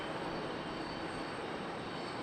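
An airliner arrives at Charlotte Douglas International Airport, its broad, steady engine roar heard as a constant wash of noise with no talking.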